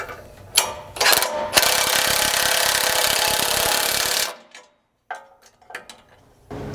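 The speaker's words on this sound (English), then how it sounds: "come back in with a 3/4 inch socket and wrench and tighten these up" Ratcheting socket wrench tightening 3/4 inch bolts on a Bronco winch plate, a brief tick or two before a long, loud stretch of rapid metallic clicking, then near silence and a few isolated clicks.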